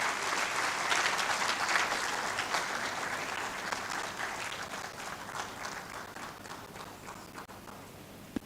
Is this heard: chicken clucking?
no